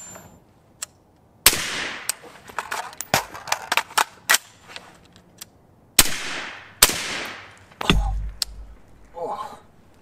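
A suppressed Ruger SFAR rifle fires in quick irregular bursts. Sharp reports crack close and loud, each followed by a brief ringing decay, with short pauses between strings of shots.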